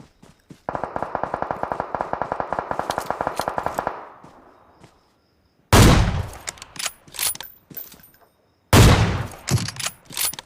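Gunfire in a PUBG Mobile match: a rapid burst of automatic rifle fire lasting a few seconds, then two heavy, booming AWM sniper shots with echoing tails, loud and close.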